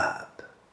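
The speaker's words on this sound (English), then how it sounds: "Making me burp." A single short, close burp follows sipping Snowflake Dancong oolong tea, voiced and fading quickly, with no talk around it.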